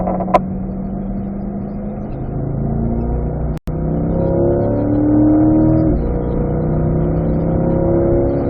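A Corvette engine pulls hard on a race track, its note climbing steadily through the revs. A brief cut near the middle sounds like a gear change, then it drives on loud and close, with no one talking.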